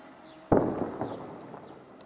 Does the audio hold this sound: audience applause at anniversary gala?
no